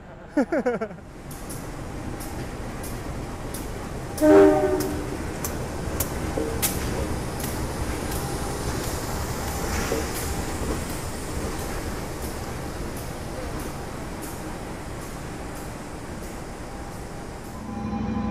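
A locomotive uncouples and pulls away from the KA Airlangga train at a station platform, a steady low rumble of rail machinery with a brief louder clank early on, continuing evenly as the engine departs.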